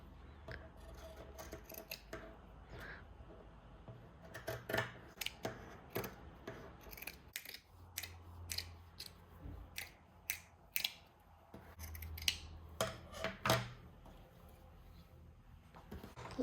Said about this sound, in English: my heat press came with this anti-slippery fabric, so I'm gonna cut the size of the circle